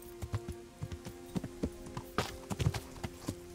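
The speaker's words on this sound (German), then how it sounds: "ich reite mal in den Wald" Horse hooves clip-clop at a steady riding pace in the medieval game Kingdom Come: Deliverance, a close, regular run of hoof strikes over about three and a half seconds with a sustained tonal hum behind them.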